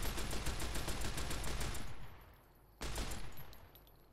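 Rapid gunfire in Fallout New Vegas rattles off in a dense automatic burst, stops briefly, then resumes for another volley before tailing off, with no talk over it.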